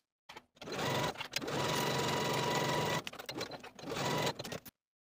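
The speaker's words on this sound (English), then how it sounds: "Sew the side and bottom edges with a 5/8 inch seam allowance." A sewing machine runs loud and close in two long bursts of steady whirring stitching along collar side and bottom edges, with short stops, clicks and handling noise between them.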